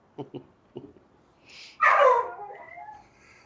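A dog gives a few soft, faint whimpers and yips, then one louder, sharper bark trailing off into a whine.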